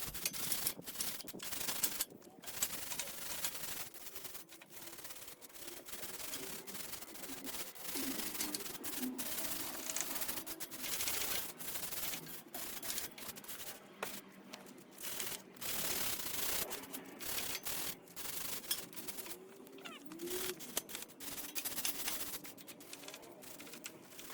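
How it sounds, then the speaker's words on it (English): Continuous harsh scratching and rasping of a steel wire brush sanding a rusty metal utility trailer body, with uneven strokes and brief pauses over about twenty-five seconds. "And just giving the body a good sanding down with the steel brush."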